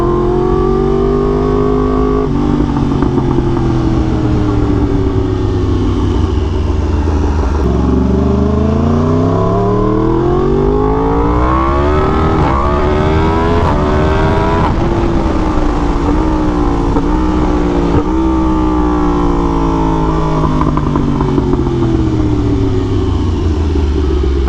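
Yamaha R1M sport motorcycle riding hard, engine revving up through the gears with quick-shifter clutchless upshifts, each shift a brief dip before the pitch climbs again; loud, close and continuous with no talking.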